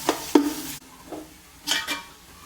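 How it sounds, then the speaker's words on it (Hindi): Onion masala for a black chickpea pulao frying on high flame in a pot, a few quick spatula scrapes and stirring strokes over a soft sizzle, close and fairly loud in short bursts. "तो फिर मसाला बनाने तक हमने इसको इसी तरह हाई फ्लेम पे भूनना है।"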